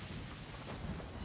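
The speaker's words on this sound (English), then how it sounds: "That's why it permanently rains over here." Steady rain hisses in Genshin Impact, a dense, continuous wash with a low rumbling undertone, heard alone for a short stretch.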